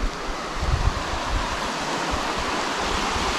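A river in Tasmania, the Donaldson River, flows in a steady, loud, broadband rush close by, with a low rumble and no voices.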